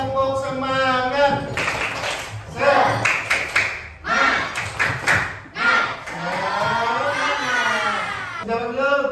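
A primary-school class in Indonesia performs a rhythmic spirit clap, with children's voices chanting loudly in unison over bursts of hand claps.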